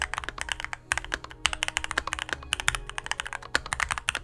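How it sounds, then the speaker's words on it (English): Rapid, deep-toned clacking of a lubed mechanical keyboard being typed on, close up and continuous with brief pauses. "creates a much nicer, deeper sound when typing"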